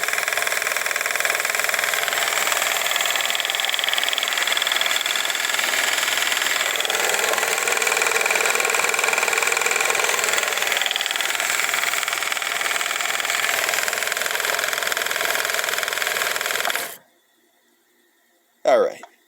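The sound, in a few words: 1955 Viking Type 21 sewing machine running fast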